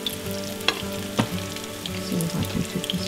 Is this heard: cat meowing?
no